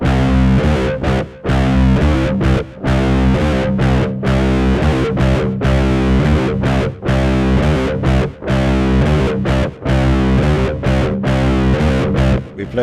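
An electric guitar with heavy distortion plays a song's interlude, sustained chords ringing loud and close with brief rhythmic gaps between strums.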